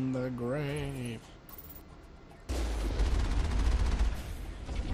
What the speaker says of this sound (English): are you shooting me a laser from beyond the grave?